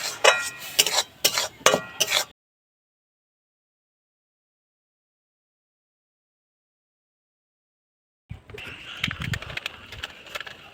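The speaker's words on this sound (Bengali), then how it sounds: "গুঁড়ো দুধটা যখন দেব অল্প অল্প করে দিয়ে মিশিয়ে নেব।" Powdered milk being stirred bit by bit into a cooked grated carrot mixture for a soft carrot sweet, with scraping spoon strokes against the pan in short bursts at first, a long silent gap, then softer continuous stirring.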